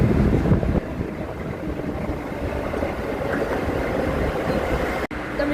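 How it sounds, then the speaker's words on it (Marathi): Mumbai local train leaving Vashi station for CSMT, its continuous rolling rumble and wheel clatter heard close by from the platform, steady throughout with a brief dip near the end. "आपली ट्रेन गेली परत एकदा CSMTसाठी"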